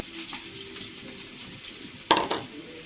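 Mustard seeds burst into hot oil with a sudden loud sizzle and a quick run of spluttering pops late on, after a quieter kitchen background with a faint steady hum.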